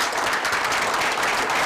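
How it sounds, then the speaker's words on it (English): A crowd at a school board meeting breaks into brief, dense applause, many hands clapping evenly and fairly loudly throughout. "Let's give Julia a round of applause."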